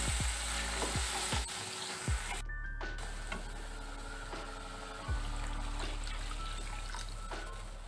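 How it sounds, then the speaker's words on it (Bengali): Water is poured into a pan of sizzling mustard paste ground with salt and green chilli, for a rohu mustard curry; steady frying hiss with sharp spatter bursts, close and fairly loud, no talk. "এর মধ্যে জল দিচ্ছি"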